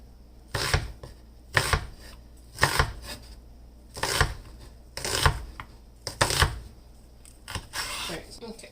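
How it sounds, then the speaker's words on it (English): A knife chops through a relatively large onion on a board in about eight evenly spaced crisp strokes, close and fairly quiet with no talking. "Gonna cut up an eighth of this onion."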